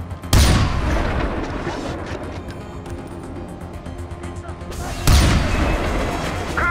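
Gunfire and loud booms in the Far Cry 4 video game, with two sharp, loud blasts several seconds apart over a continuous noisy battle mix of shots and rumble.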